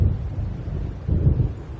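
Low rolling thunder from an approaching storm in a video game, a continuous rumble that swells again near the middle and carries on to the end.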